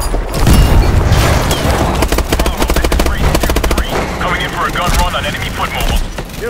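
Gun-run fire in the Call of Duty Advanced Warfare mission Fission: loud, dense rapid-fire bursts with booming impacts, a continuous rattling barrage close by, with voices and battle noise underneath.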